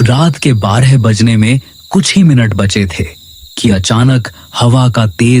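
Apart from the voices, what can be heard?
crickets chirping at night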